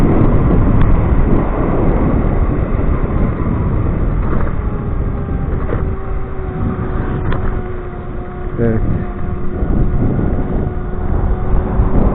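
Strong wind buffets the microphone with a continuous loud rumble, over a faint steady drone from a Dualtron electric scooter riding near Riva beach, Beykoz.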